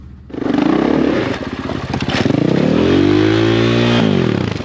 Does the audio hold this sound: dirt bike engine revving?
yes